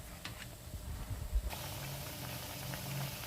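Garelu, lentil fritters, deep frying in oil, a quiet bubbling sizzle with a few soft knocks, growing slightly brighter and steadier partway through.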